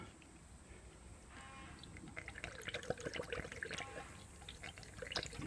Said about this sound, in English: Okay, here's the first 2 litres of coolant to go into this motor.